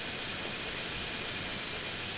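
A fighter jet's engine in GTA San Andreas Mobile gives a steady, dense roar with a thin high whine on top, constant and fairly loud throughout, with no talk.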